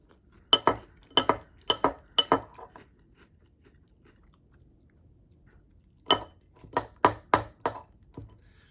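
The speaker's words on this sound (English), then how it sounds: "There's nothing like the sound of a metal spoon hitting the bottom of a cereal bowl." A metal spoon strikes the bottom of a cereal bowl holding Hershey's Kisses cereal. Two quick runs of sharp, close clinks, about four or five each, are separated by a few seconds of quiet.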